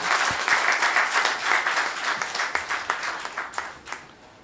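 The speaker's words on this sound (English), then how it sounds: "I request everyone to give a huge round of applause." Conference audience at a national conference inaugural session applauding a guest in a steady, dense burst of clapping that fills the room, gradually thinning toward the end.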